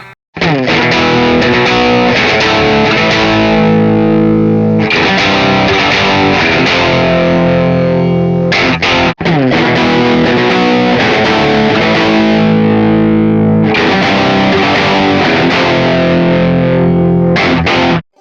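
Heavily distorted electric guitar chords blast through a Bogner amp, loud and sustained, with two short riff phrases separated by a brief gap.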